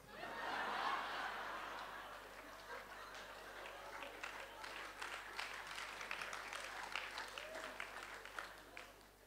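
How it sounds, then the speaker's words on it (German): Audience at a comedy show clapping steadily under scattered chuckles and snickers, a dense, moderately distant patter of applause that stays fairly even throughout. "Ihr wisst schon, es ist irgendwie zynisch an der Stelle zu klatschen."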